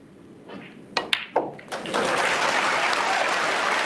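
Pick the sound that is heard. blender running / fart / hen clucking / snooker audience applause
snooker audience applause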